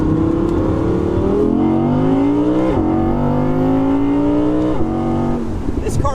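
An Audi R8 V10 Performance accelerating hard on an Alpine road, its engine note climbing loud and close, broken by two sharp gear shifts before pulling again.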